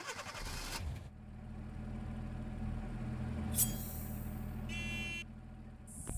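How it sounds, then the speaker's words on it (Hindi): An open jeep in a mobile battle game cranks and starts, its engine idling with a low rumble, then two bright horn blasts sound briefly near the end. "यहाँ पे आप इसकी स्टार्टिंग और हॉर्न की आवाज सुनिए"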